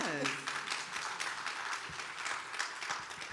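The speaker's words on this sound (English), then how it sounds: "Round of applause for that" Audience applause at a RenderATL 2023 conference talk, a steady wash of clapping with a few whoops, moderately loud and sustained for a few seconds, with a voice briefly audible at the start.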